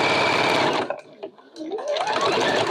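Sewing machine stitching a quilt binding seam with a loud, fast motor whir, a brief pause near the middle, then the machine running again as it back stitches, close up with no talk.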